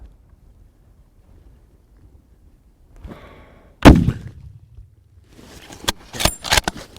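A single sharp rifle shot rings out at a bull on a hunt, a loud broadband crack with a short rumbling tail, followed a couple of seconds later by a few more sharp knocks and clatter against faint wind noise.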